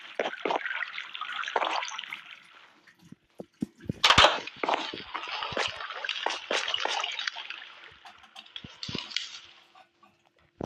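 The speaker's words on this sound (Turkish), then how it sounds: "Bizim evin camlarından çıkan bir şelale oluştu buradan." Water pouring from the windows of a house in a block-building crafting game makes a steady trickling and splashing sound, with a louder splash near the middle and no talk over it.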